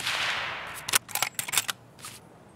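Gunfire in Escape From Tarkov: a rapid cluster of sharp cracks, with several shots close together followed by one more a moment later, over a faint hiss and no talk.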